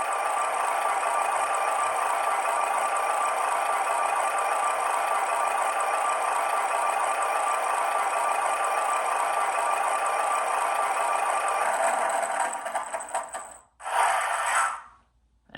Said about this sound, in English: It does an engine shutdown sequence.